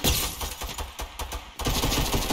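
Rapid automatic gunfire from a CS:GO-style shooter map (Dust 2) played in Fortnite, dense repeated bursts with a short pause before the shooting resumes loudly, no talk over it.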